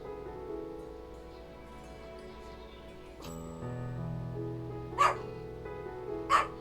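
Two sharp, loud dog barks from Biscuit, the pet dog, ring out near the end over a steady low hum of game music, spaced about a second and a half apart.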